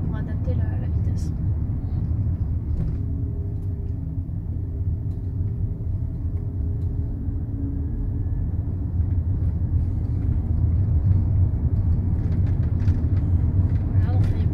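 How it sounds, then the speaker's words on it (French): Autonomous car picking up speed again on an open road lane, a low steady engine and road rumble from inside the cabin, heard under ongoing talk. "Voilà, donc il n'y a plus personne sur la voie, le véhicule réaccélère."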